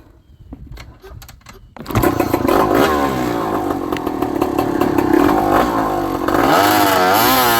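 A quad built from a Yamaha YFZ450 with a swapped-in KTM 300 two-stroke engine launches in second gear: a brief faint start, then a sudden loud, raspy, sustained engine roar up close that rises and holds.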